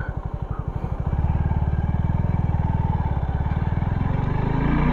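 A sports touring motorcycle's engine thrums steadily up close during a slow turning-radius U-turn. A fast, even pulse firms up after the first second and holds a constant low-speed rumble.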